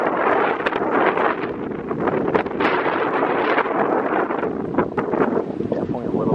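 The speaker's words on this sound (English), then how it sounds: "Definitely a little bit windy out here." Steady wind buffeting a microphone outdoors in a backyard, a continuous loud broadband rush with gusty fluctuations throughout and no clear breaks.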